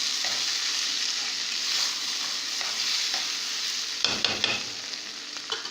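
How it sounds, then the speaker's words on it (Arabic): Rice and meat stirred in a cooking pot: a steady soft sizzle with light scraping strokes of a spoon and a few sharper clinks near the end, no voices. "نقلبه كويس قوي"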